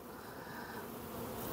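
Honeybees buzzing around a hive frame bearing swarm cells, a steady dense hum filling the whole stretch at moderate, even loudness with no voices.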